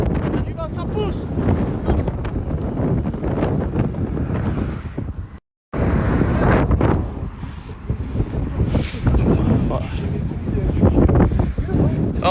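Strong wind buffets the microphone aboard a sailboat under way, a loud continuous roar with water rushing, broken by a brief dropout midway, while people talk in French.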